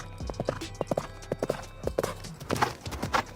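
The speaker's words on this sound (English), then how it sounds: "he was interrupted by the sound of a galloping horse quickly approaching" A horse clip-clopping as it approaches, hooves striking in an irregular galloping rhythm that grows louder and nearer, with no voices over it.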